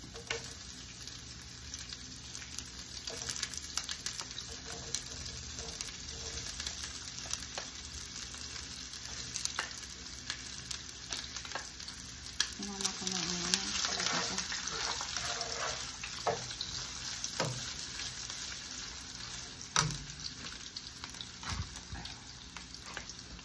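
Ham, onions, beef and grated carrot frying together in a pan for spaghetti sauce, a steady close sizzle with occasional scrapes and clinks of stirring, no talking.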